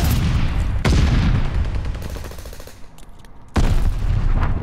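Video game gunfire at a hard point, with heavy bursts of rapid automatic shots and booming impacts, loud and close, breaking off briefly before a second burst.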